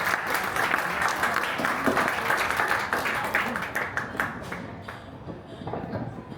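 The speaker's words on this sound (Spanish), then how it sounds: "Démosle un fuerte aplauso," Moderate applause from the audience at a book presentation, a full patter of many hands that gradually thins and fades out over several seconds.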